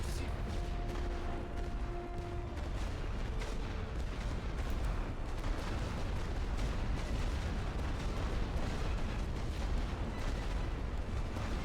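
Sustained artillery barrage in the World War I strategy game The Great War: Western Front, a dense continuous roar of overlapping booms and gunfire rumbling steadily throughout, with a brief tonal game sound early on.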